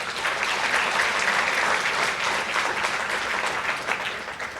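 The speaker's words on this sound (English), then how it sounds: "So again, a round of applause for Jackie," Steady, full audience applause at an annual United Way meeting, honoring a staff member, with many hands clapping evenly throughout and fading slightly at the end.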